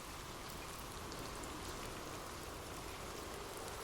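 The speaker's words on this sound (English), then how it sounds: "drift off to sleep with rain" Steady, soft rainfall pattering on a surface, an even continuous hiss with no voices or other sounds.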